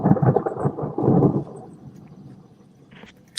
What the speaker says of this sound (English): I love the sound of the rain and thunderstorms.